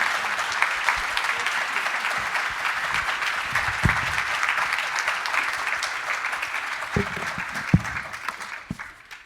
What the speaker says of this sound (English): Let's give a warm applause again of gratitude to Speaker Rivas.